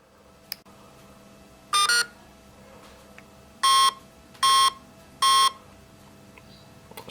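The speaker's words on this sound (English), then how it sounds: "you can listen out for the beeps." A Swordfish RC electronic speed controller recognises a 3-cell LiPo battery with a short tone, then three evenly spaced, loud electronic beeps after a pause, over a faint background hum.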